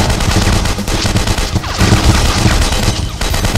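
Machine gun fire in a VR shooter video game, loud and close, with dense rapid bursts that rattle almost continuously throughout.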